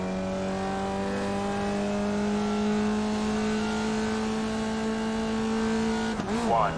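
Race car lapping Laguna Seca, a loud steady engine drone held at high revs through a corner, then a quick rev change near the end, close and continuous.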